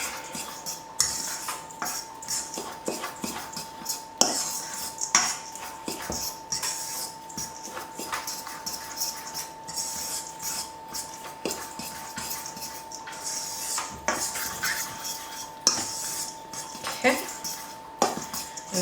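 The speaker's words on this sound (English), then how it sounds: "Make sure we get all those clumps of Parmesan broken up. And we're just going to mix that all together." A utensil scrapes and clinks against a bowl while Parmesan is mixed into buffalo chicken mac and cheese, giving a steady stream of irregular clicks and taps with some talking alongside.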